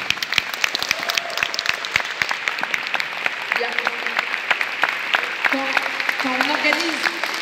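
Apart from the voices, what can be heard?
audience applauding the volunteers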